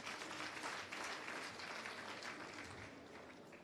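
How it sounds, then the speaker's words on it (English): An audience at a skills development centre launch event claps in sustained, fairly faint applause that fades slightly toward the end. "I think that deserves a hand of applause."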